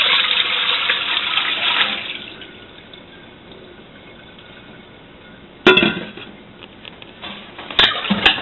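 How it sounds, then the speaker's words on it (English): Cold tap water running into a bowl while washing food, a steady loud splashing stream that softens to a quieter trickle, then two brief louder splashes. "So just like fill this up with cold water."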